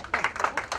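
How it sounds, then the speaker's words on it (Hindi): A few audience members clap at a Mumbai app launch event, a short burst of scattered, uneven hand claps lasting under a second, fairly faint. "बाबू भाई के लिए एक तालियां हो जाए."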